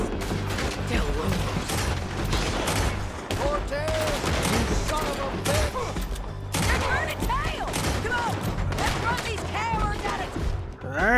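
Heavy gunfire in a Red Dead Redemption 2 town shootout, continuous loud shots and clattering over a dense game soundscape, with voices talking throughout.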